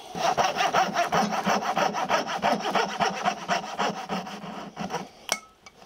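A coping saw cuts a wooden board for dovetail joints with a quick, steady run of close back-and-forth rasping strokes, heard alone, then stops with a short sharp click.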